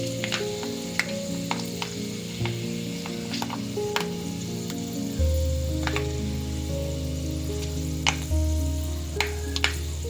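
Fenugreek seeds frying in oil left over from frying fish, a loud steady sizzle with sharp crackles and pops scattered throughout over a low hum.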